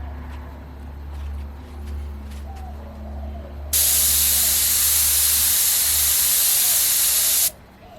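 An airbrush spraying paint onto a portrait, a loud steady hiss that starts abruptly, runs for about four seconds and then cuts off, over a low background hum.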